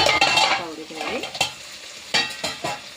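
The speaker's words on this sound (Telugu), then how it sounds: "టమాటాలు వేసేసి బాగా వేగనివ్వాలి. కొంచెం టమాటా మెత్తబడిన దాకా ఉడకాలి." Tomatoes frying in a pan while being stirred, giving steady close sizzling broken by several sharp scraping strokes of a utensil against the pan.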